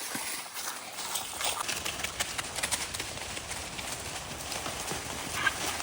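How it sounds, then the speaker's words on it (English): Wild donkey herd approaching, hooves clip-clopping in a steady patter over several seconds alongside outdoor background noise, growing denser as the animals near. "Got a wild donkey herd."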